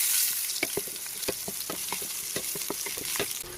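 Onion and potato frying in a hot oiled pan, with a steady close sizzle and repeated scraping stir clicks throughout, and no voices.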